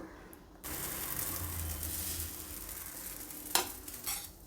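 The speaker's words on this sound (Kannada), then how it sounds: "ನಾನಿಲ್ಲಿ ಅಪ್ಪಮ್ ಮಾಡೋ ತವಾದಲ್ಲಿ ಬಂದು ದೋಸೆ ಮಾಡ್ತಾಯಿದ್ದೀನಿ" Ragi bun dosa sizzling on a nonstick appam tawa, a steady close crackling hiss that starts abruptly and holds, with a brief clink of a utensil near the end.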